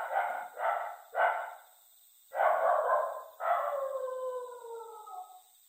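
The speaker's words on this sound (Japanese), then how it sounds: "鳥が飛び立つ音、犬が吠える声も聞こえます。" Dogs bark and howl in a Japanese horror audio drama, three short barks in quick succession followed by two longer drawn-out howling cries, fairly clear and alone without speech.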